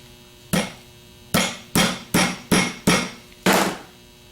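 Sharp hammer taps on an alternator part while rebuilding a 10SI alternator: seven metallic knocks, the first two spaced apart, then a quick steady series, with no talking.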